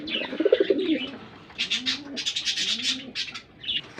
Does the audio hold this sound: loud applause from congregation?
no